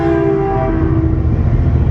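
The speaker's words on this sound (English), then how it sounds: "The train." A loud train rolls by close up, a sustained rumble topped by a steady tonal whine like a horn or wheel squeal, continuous for a couple of seconds without speech.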